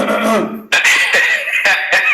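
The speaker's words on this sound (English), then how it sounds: "He's clearing his throat now to make us laugh." A man clears his throat several times in quick, rough bursts, close to the microphone, with a short pause after the first.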